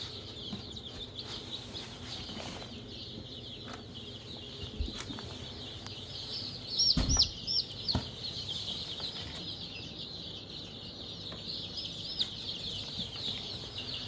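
Chickens in a coop housing over 300 birds, soft scattered clucking and murmuring at low level throughout, with occasional louder calls and faint bumps nearby.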